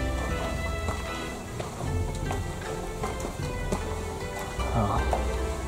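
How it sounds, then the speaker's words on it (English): Heavy rain pours onto a mountain path near Kyoto, a dense, continuous patter with scattered sharper drops and splashes close by, over a low steady rumble. "the rain is pouring through."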